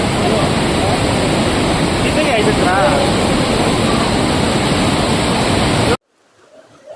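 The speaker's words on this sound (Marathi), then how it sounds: "या मीना नदीला देखील पूर आलेला आहे" The flooded Meena river, swollen after hours of heavy rain near Narayangaon in Junnar taluka, rushes in a loud, constant roar for six seconds, with a faint voice briefly audible. Then the sound cuts off abruptly to near silence.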